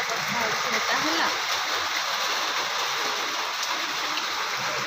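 Heavy rain pours down in a village during the Rath Yatra festival, a loud, dense, unbroken wash of falling water close by, with occasional faint voices beneath it.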